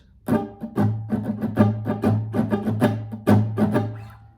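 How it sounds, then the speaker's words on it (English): An acoustic guitar played with a pick while the fretting fingers lightly cover and deaden the strings, producing a close, steady sequence of muted scratchy strums with strong accented downbeats, heard alone without voices. "I'm going to mute the strings by just covering with my fingers"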